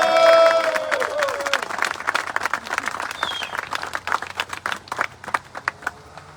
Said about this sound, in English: Let's give a big round of applause for the class of '82 one more time